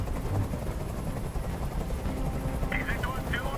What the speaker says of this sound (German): Dieser Helikopter soll verschwinden!